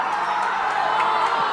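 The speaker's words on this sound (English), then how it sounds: "The crowd really ramping up." A crowd at a bouldering final at Freshwater cheers and whoops in a steady, loud wash of noise that builds without pause.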